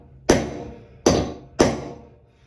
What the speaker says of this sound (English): I'm gonna take my punch. I'm just trying to score the glaze tile a little bit.